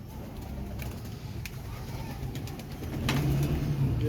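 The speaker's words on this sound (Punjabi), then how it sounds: "ਇਹ ਕਬੂਤਰ ਵੇਖ ਲਓ ਭਾਈ ਉਹਨਾਂ ਦੇ।" Rampuri pigeons coo softly at the Shahdara pigeon market in Lahore, a low murmuring call rising near the end over a steady background hum and faint chirps.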